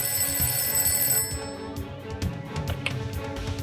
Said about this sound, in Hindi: सुधा आंटी का फोन है।